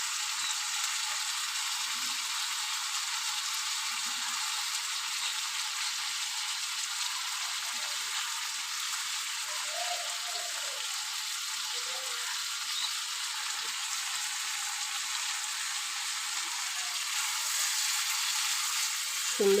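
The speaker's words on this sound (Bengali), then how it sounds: "চিংড়ি মাছটা ভাজাও হয়ে যাবে," Shrimp frying with spices in a pan gives a steady, even hiss that runs without a break for the whole stretch. A few faint scrapes and soft stirring sounds sit under it, and no one speaks.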